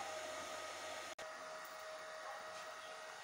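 A steady broadband whine of a rotary hammer drill running at idle with no load, constant and close, with a momentary dropout near the start.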